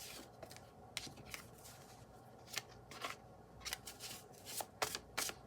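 Tarot cards are shuffled up close in quick, crisp riffling bursts and slides, repeated irregularly against a quiet room.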